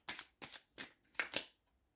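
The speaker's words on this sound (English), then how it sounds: "I want to shuffle these twin flame cards" Twin flame tarot cards being shuffled, four quick crisp riffling bursts close up, quiet and alone with no talk.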